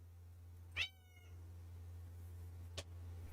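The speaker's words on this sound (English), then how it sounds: "I'm curious if the noise filter gets rid of the cat meowing or not" A house cat meows indoors: one short, faint mew, then a second brief one a couple of seconds later, both quiet over a steady low electrical hum.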